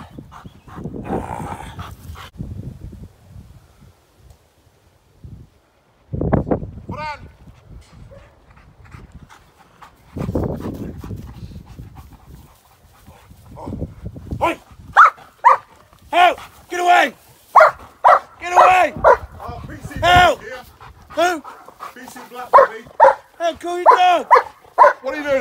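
A 12-month-old show-line German Shepherd barks during protection training in a gun crime scenario, with loud, close bursts of barking that become rapid and continuous in the second half, mixed with shouted human voices.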